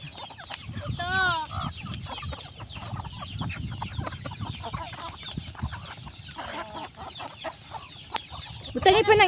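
Chickens cluck and chatter close by while eating, amid soft pecking and scratching, with a brief louder squawk and faint voices in the background.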